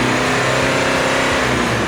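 A turbocharged BMW E46 engine revving steadily under throttle, loud and close, with a continuous strained mechanical tone and no voices.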